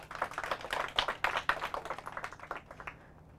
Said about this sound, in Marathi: त्यांच्यासाठी टाळ्या